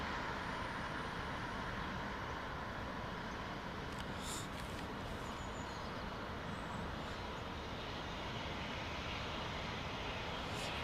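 Air India Airbus A350 airliner in Vista livery lining up and departing a runway at London Heathrow, heard as a steady, broad jet engine roar that holds throughout, distant and fairly faint with no voices.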